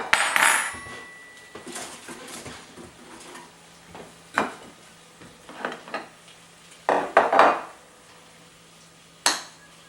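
Knife spreading butter on freshly popped toast in a home kitchen, several short scraping strokes and light clinks of cutlery against a plate, close and intermittent with quiet gaps.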